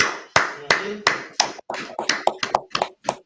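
A small group of people claps in a loose, uneven rhythm of a dozen or so sharp, close claps that speed up slightly toward the end.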